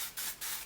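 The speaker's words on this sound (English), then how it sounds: "This is a really good airbrush foundation." Dior Airflash airbrush foundation sprayed from its can onto the face, giving two or three short, loud, close bursts of broad hiss with brief gaps between them.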